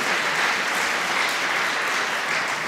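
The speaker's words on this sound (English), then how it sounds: "Give the coders a round of applause." An audience at a healthcare awards event gives a steady round of applause, dense and sustained with no one speaking over it.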